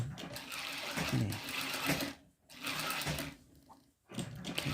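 A sewing machine stitches a fabric bucket hat in steady bursts, stopping briefly twice between runs, close and fairly quiet, with no talking.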